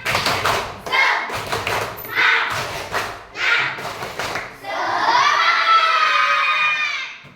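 Classroom children perform a rhythmic spirit clap, with a series of short, separated claps and shouted voices, then a sustained burst of loud children's shouting and cheering close by.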